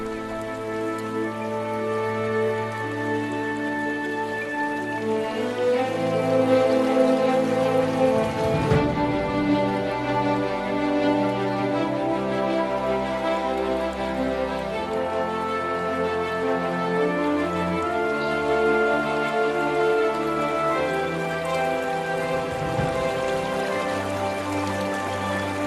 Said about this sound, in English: Heavy rain clouds mark the onset of summer.